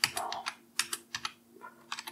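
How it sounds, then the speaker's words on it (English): Typing on a computer keyboard while setting up a Reolink camera in Home Assistant, a quiet, close run of irregular key clicks in small bursts with short pauses. "This is where we're going to type that in."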